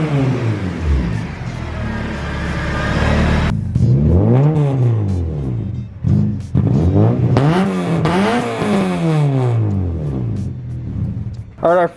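A K24-swapped Honda EP3 with its front bumper missing, revving hard again and again, its engine pitch sweeping up and down through repeated rises and drops, loud and close, with a brief pause between runs.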